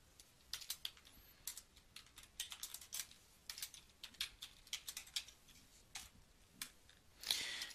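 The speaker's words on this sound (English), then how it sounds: "start typing in some text" Keys on a computer keyboard are tapped in quick irregular bursts, close and quiet, with brief pauses between runs of typing and no voice.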